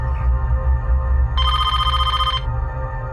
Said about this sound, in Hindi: जरा देखना किसका फोन है